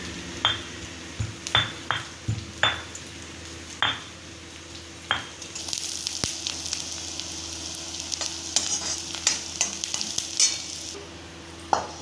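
A spoon stirs and scrapes a pan of frying onion, garlic and homemade chili masala, giving sharp metallic taps over a low steady sizzle; the clatter is close and irregular with no talk.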